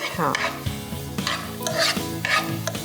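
Mixed vegetables such as capsicum, carrot, cabbage and spring onion sautéed over high heat in a pan, with steady loud sizzling and repeated stirring scrapes running throughout, no voices.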